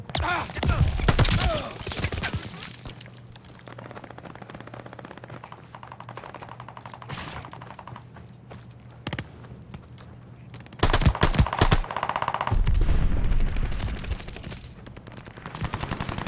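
Gunfire from the multiplayer mode of Call of Duty: Vanguard, loud bursts of shots near the start and again around eleven seconds, with a steady low game hum and quieter stretches between, no talk.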